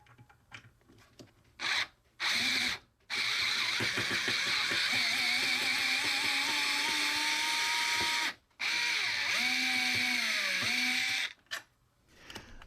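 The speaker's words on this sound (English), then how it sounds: "So here, I am just repeating the process and placing the screws back in." A Fanttik NEX L1 Pro electric screwdriver drives screws back into a desk, its motor whirring in several steady bursts separated by short pauses, close and fairly loud, with a rising whine near the end of one run.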